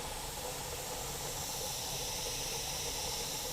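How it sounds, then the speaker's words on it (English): Steady, even hiss of steam venting from a pressure canner, constant and unbroken throughout with no voices. "Here's an example of what the steady steam looks like."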